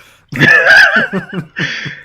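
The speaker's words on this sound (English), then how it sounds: "Don't you dare leave me burping in." A burp rumbles out loud and close, a long voiced belch lasting over a second, followed by a couple of shorter gurgling bursts.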